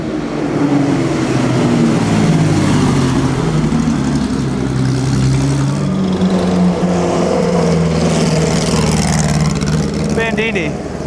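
Vintage Maserati race car passing during the Mille Miglia road race, a loud close engine drone with rising and falling revs. It carries on steadily with other engine noise behind it, and people talk over it.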